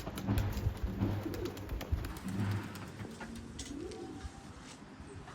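Pigeons kept for breeding, with a female sitting on eggs, give several low, throaty rolling coos close by, repeated in short rhythmic phrases over faint background noise.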